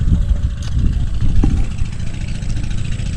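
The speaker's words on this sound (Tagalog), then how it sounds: "kung naririnig nyo yung makina pinapandar na po pinapatuyo na paikot palaisdaan" A pump engine started to drain a fishpond stocked with pangasius, chugging steadily and fairly close with a continuous low mechanical rumble and a few sharp knocks, no voices over it.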